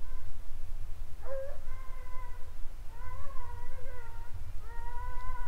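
A cat caught by running walker hunting dogs lets out several long, strained yowls in a row, fairly loud, over a constant low rumble of background noise.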